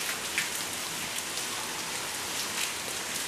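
Steady rain falling in a Spanish garden setting, a dense, even patter with occasional closer drops, continuous throughout with no voices.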